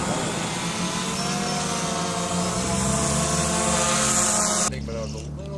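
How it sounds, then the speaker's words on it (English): A quadcopter drone descends to land, its rotors giving a steady multi-toned whine and buzz that cuts off abruptly near the end, leaving a lower hum, with a voice briefly heard. "Quadcopter down for a landing."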